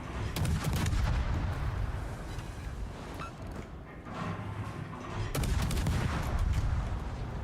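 Warship secondary battery guns fire in a naval combat video game, a dense, continuous barrage of booming shots and rumbling blasts that eases briefly mid-clip before surging loud again.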